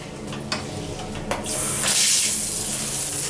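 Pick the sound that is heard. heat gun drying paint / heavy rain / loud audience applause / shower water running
shower water running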